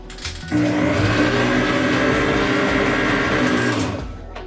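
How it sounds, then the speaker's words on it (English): An electric kitchen mixer motor whirs loudly and steadily for several seconds close by while making brownies, starting and stopping abruptly, with no talking. "So I like to use my mixer."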